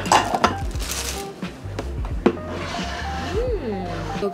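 A bowl being handled among other dishes, with several sharp clinks and knocks over a busy kitchen background while a voice speaks briefly.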